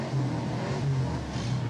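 Monaro and Valiant cars revving at a race flag drop, a steady engine drone with low pulsing rumble swelling and easing a few times, fairly loud and with no talk.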